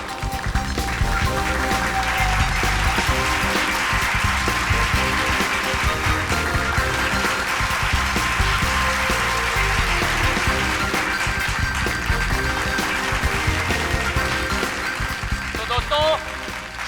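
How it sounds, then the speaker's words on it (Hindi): A crowd claps steadily for a stage magician, a long unbroken wash of applause that holds loud throughout, with a voice urging on the audience beneath it. "जोरदार तालियां दोस्तों, जोरदार तालियां।"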